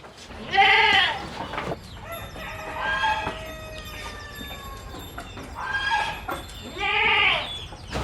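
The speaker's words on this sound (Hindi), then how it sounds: "ये बर्बरी बकरियां हैं।" Barbari goats on a mixed farm bleat loudly, with two strong, wavering calls near the start and end and quieter animal calls and farm noise in between.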